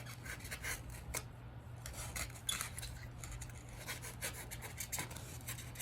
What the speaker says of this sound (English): I'm just going to go in with a long blade and I'm just going to clean. A little slight sawing motion